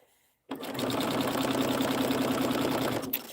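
A sewing machine starts abruptly after a brief quiet moment and runs in a fast, steady mechanical chatter while stitching fabric stars, close and loud, stopping with a slight hitch at the end.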